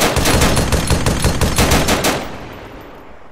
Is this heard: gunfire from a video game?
yes